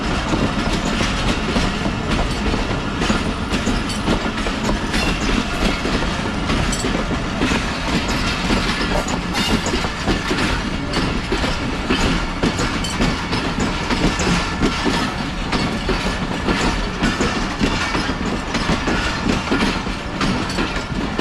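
A train rolls through Wazirabad Junction railway station in heavy fog, its wheels producing a steady, loud rumble and rhythmic clickety-clack that continues unbroken throughout, with no voices.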